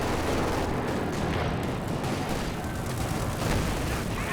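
Company of Heroes 2 battle with an anti-tank gun firing amid dense, continuous gunfire and explosive booms, loud and busy throughout with no clear break.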